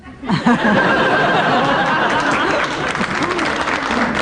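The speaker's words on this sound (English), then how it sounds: "That's enough applause for that sort of joke." A comedy panel show audience claps and laughs after a joke, a loud burst of applause mixed with chuckles that rises quickly and stays dense throughout.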